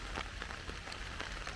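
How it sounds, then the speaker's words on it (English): Steady fall downpour on Salt Spring Island, a dense, even hiss of heavy rain close by with scattered louder drop impacts spread through the clip, no voices. "It's really raining. We're caught in the downpour"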